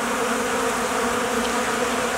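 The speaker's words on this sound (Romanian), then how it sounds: "Acum sunt o multitudine de albinuțe care au ieșit la culis." Dense, steady buzzing of a crowd of honeybees around a protein feeding tray set out in February, a continuous close hum with no gaps and no voices.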